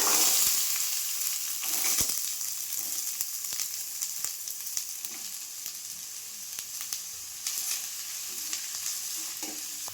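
Onions frying in oil in a pan give a steady, bright sizzle with repeated sharp clicks and scrapes from stirring, loudest at the start and then settling into an even hiss.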